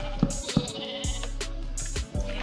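Repeated short bleats from sheep in Minecraft, a handful of quick calls in close succession over a constant low hum, without any speech.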